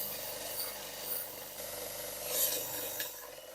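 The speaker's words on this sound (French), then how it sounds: "Je vais maintenant les meuler pour retrouver la pointe" Rasping grind on the tips of shortened nails for a driftwood frame, a steady abrasive scraping that swells and fades over a few seconds with no voices.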